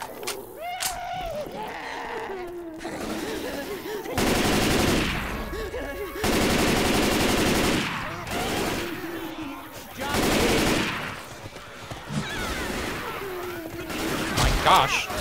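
Loud automatic gunfire from the video game Left 4 Dead 2 in The Parish, several sustained bursts of a few seconds each separated by quieter stretches where players talk.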